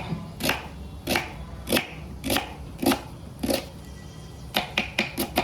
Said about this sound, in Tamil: நல்லா நறுக்கு